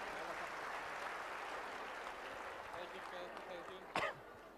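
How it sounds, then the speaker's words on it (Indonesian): An audience at an Islamic lecture claps together in a steady, faint wash of applause, with a brief sharp knock near the end. "berikan tepuk tangan teman-teman untuk semuanya"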